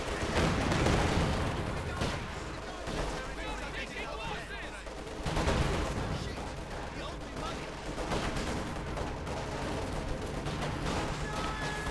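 Rifle gunfire from a Company of Heroes 2 battle, a dense and continuous crackle of shots and heavier booms that keeps up throughout, loud and busy, with some voice mixed into the din.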